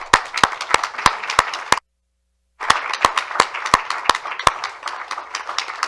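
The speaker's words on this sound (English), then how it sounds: "So we'll give you a round of applause" Sharp, regular claps sound near and loud at a city council meeting, with a short silent gap between two runs of clapping.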